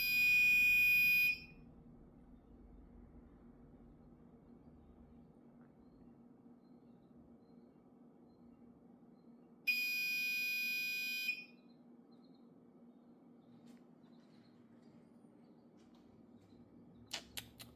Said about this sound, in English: it wasn't a continuous beep, but then it would beep every like every 3 seconds.